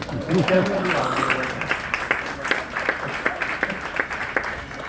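Scattered, polite applause from an audience rises briefly and thins out, with someone talking over the sparse clapping throughout.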